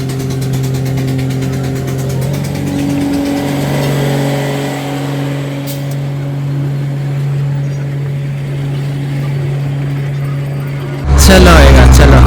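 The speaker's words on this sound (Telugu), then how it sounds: "ఇది స్టీమ్ కాదు, ఇది వేరే డీజిల్ ఇంజిన్." Diesel locomotive engine of a Darjeeling train idling with a steady low drone, rising slightly mid-way, heard from nearby, with a loud burst of noise at the end.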